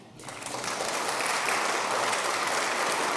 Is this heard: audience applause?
yes